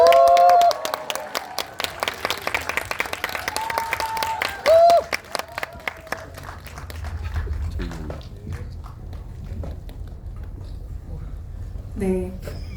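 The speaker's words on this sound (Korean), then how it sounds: "큰 박수로 세 분의 게스트를 환영해 주시기 바랍니다" Cinema audience at a Korean film Q&A applauding three arriving guests, a dense patter of many hands over background music that thins out midway into quieter room noise and scattered sounds.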